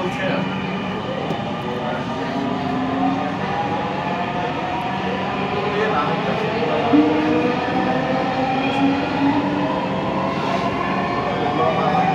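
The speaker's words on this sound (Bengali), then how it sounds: "This train is bound for Uttara North." Dhaka metro train running between Mirpur 10 and Uttara North, a steady rumble and rising whine of the moving carriage throughout, with faint voices underneath.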